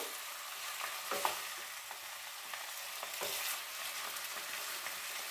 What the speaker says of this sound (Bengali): মশলাটা দিয়ে সবজিগুলো বেশ ভালো করে নাড়াচাড়া করে নিচ্ছি, যাতে সব মিশে যায় একসাথে।